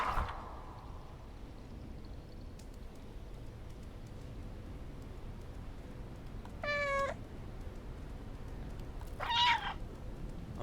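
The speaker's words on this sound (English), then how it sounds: "I'm assuming that when I meow" A cat meowing in the video game Stray, two short separate meows at a moderate distance over a steady low ambient hum, with no talking.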